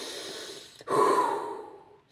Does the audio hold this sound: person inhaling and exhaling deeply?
yes